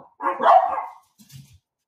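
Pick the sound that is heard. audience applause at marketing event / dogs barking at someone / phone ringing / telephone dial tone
dogs barking at someone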